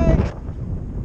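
Wind buffets the microphone during a paragliding flight, a loud roaring rush that is heaviest at the start and then settles into a steady, lower blustery noise.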